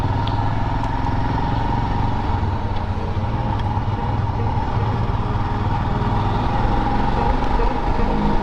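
A Triumph T100 motorcycle engine drones loudly and continuously during a ride, a close, unbroken mechanical roar with no pauses.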